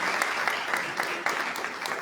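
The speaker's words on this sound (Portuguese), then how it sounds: "Vamos aplaudir esses irmãos." Church congregation applauding during a Sunday service, a short burst of close, rhythmic clapping with steady sharp hand strikes.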